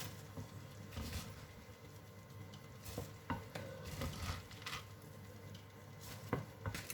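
Rice poured into boiling coconut-milk water and stirred in a pot for Thai khao tom mat, giving a steady bubbling sizzle with scraping stirs and a few louder knocks throughout, no talking.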